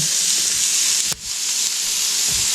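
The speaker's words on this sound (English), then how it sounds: "Take your burger, place it over here on the griddle." A burger patty for onion smash burgers sizzling on a hot griddle, a loud, dense, steady hiss close by with a brief dip midway and faint scraping.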